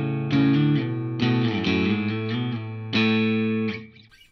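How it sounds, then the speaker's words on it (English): Electric guitar strung with D'Addario 10-46 strings played through distortion, three loud sustained chord phrases with quick changes, ringing then cut off at the end, no voices. "Let's give it a little bit of distortion."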